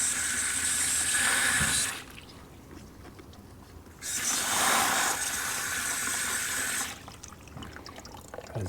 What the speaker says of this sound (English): And here, I'll lightly wash it off.